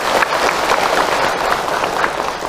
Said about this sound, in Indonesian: Tepuk tangan untuk orang Cilegon